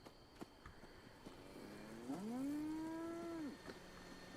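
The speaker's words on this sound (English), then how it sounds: "Is that the cow, or is that something about to attack the cow? That is the cow." A cow in a video game moos once, a long low drawn-out call rising and then holding before it trails off, heard alone with faint background sound.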